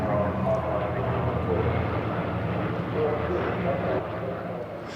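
De Havilland Vampire and Venom classic jets fly past at the Farnborough air show, a sustained roaring engine rumble that swells and fades slightly, with an indistinct voice underneath.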